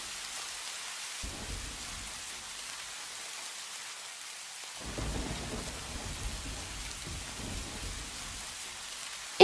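Rain falls in a steady hiss in a cartoon field scene at night, while low rumbles of thunder roll in and out beneath it, heaviest in the second half.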